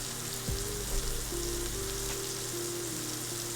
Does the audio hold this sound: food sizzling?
yes